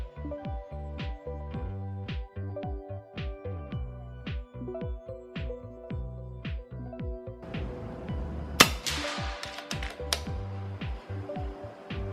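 A .177 air rifle fires 16.2-grain pellets at a target about 35 meters away: a quick, regular string of sharp close cracks and clicks over a faint tonal background, with a louder burst near the end.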